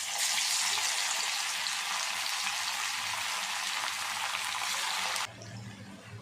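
Chicken pieces fry in a pan of hot oil with a loud, dense, steady crackling sizzle heard close up, which drops abruptly to a quieter bubbling near the end; no one speaks.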